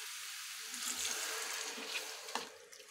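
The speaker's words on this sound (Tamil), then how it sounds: "சிறிதளவு தண்ணி ஊற்றிக்கலாம்." A little water poured into a pan of chicken being cooked, giving a soft continuous splashing hiss close by that fades near the end.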